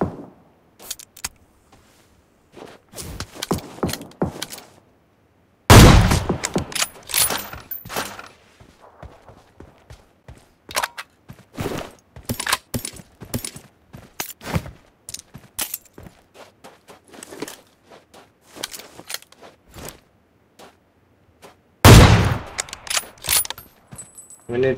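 Gunfire in the battle royale game PUBG Mobile during a squad fight, heard as clusters of sharp cracks and bursts spread unevenly across the stretch, some loud and close, others fainter, with brief quiet gaps between volleys.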